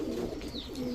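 A pigeon at a loft for high-flyer and racer breeds gives a short, soft coo, close and faint.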